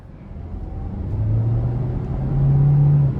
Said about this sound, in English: let's go ahead and take this 2022 Hyundai Tucson Hybrid SEL Convenience with all-wheel drive out on the road for a test drive